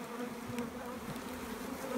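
Honey bees hum at a hive, a soft, continuous droning buzz that stays steady for two seconds with no other sounds.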